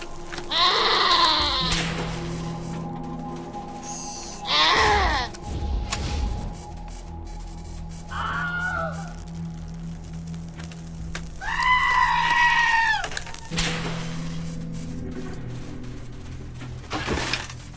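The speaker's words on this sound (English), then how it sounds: "Goats are freaking me out." Goats bleat repeatedly in the video game Wasteland 2, several loud wavering cries in separate bursts over a steady low game ambience, with a short shattering crash among them.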